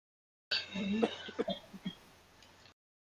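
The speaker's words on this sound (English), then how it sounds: "You're coughing." A person coughs and clears their throat in a few short bursts at a new media performance event, close and fairly loud, then quiets down.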